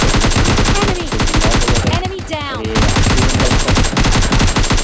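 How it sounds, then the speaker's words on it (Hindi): Rapid, loud bursts of automatic gunfire from a game, dense rhythmic shots with a short pause midway before firing resumes. "यहाँ पे स्कोप खोल के गोली चलाता हूँ"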